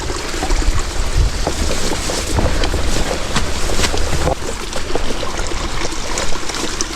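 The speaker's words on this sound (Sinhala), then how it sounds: "පාරේ වතුර එනවා මේ" Water runs steadily down a slippery forest path, a continuous broadband rush and trickle that stays close and fairly loud throughout, with occasional small splashes and light wind noise.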